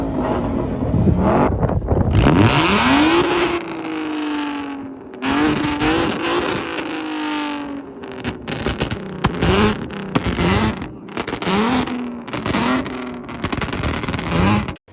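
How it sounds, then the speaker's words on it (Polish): Ford Mustangs at a rally rev their loud exhausts in a loudest-exhaust contest, with repeated roaring accelerations, rising engine whines and sharp blips, very loud and close throughout, echoing outdoors near a river. "konkurs na najgłośniejszy wydech na imprezie."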